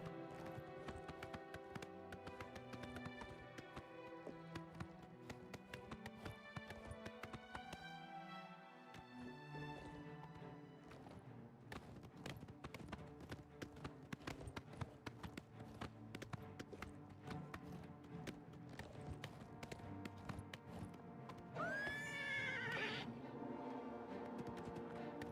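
A horse gallops in The Elder Scrolls IV: Oblivion Remastered while climbing a mountain, with rapid hoofbeats under steady game music and a short whinny near the end.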